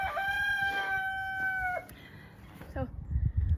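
A rooster's crow rings out near and loud, ending in a falling tail, followed by a brief second squawk and some low outdoor rumble and handling noise.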